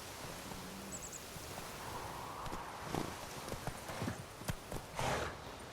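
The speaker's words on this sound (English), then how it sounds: "you can summon your horse, double tapping L3" Horse hooves clip-clopping in The Witcher 3: Wild Hunt, a run of hoof strikes growing denser and louder after a quieter start, with faint ambient game noise beneath and no talking.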